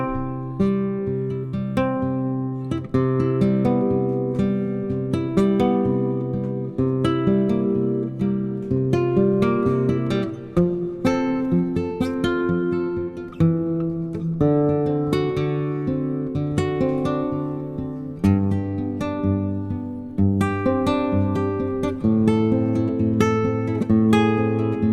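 An acoustic guitar plays a song in the A shape of the CAGED system, a steady strummed and picked accompaniment, fairly close and alone with no talking throughout.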